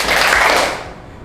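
Classroom children clap together on their teacher's count. A dense burst of hand claps fades quickly into quiet.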